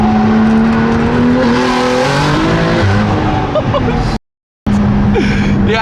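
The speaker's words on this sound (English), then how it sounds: "It's a crazy anti-lag. It builds up all the boost. Let me see if I do a second gear one." Audi R8 launching hard in second gear with anti-lag, a loud close engine roar rising in pitch through the run, cut by a brief dropout near the end before the engine resumes.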